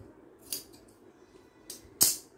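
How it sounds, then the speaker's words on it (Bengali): Scissors cutting fabric for a crocheted dress, two or three crisp close snips spaced apart, the last the sharpest. "নিচে আমি একটু আঁকা বাঁকা থাকলে কেটে নেব।"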